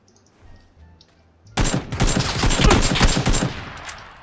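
AK rifle fire in a battle royale video game, a sudden sustained rapid burst of loud close automatic shots running for over two seconds after a quiet stretch, then cutting off.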